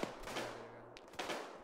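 Sniper gunfire in the military shooter game ARMA 3: a few sharp distant cracks, one near the start and others around one and 1.2 seconds, over a low steady rumble of game ambience.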